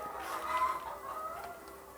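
A flock of laying hens on a fertilized-egg farm in Gyeongju, North Gyeongsang, Korea, clucks and murmurs in a dense, continuous chorus that fills the space at moderate volume.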